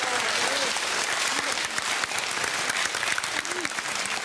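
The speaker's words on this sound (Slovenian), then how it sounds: "res en velik aplavz obe ekipi" Loud, dense applause from an audience cheering two primary school teams at a quick-play school competition, steady throughout with a few voices mixed into the clapping.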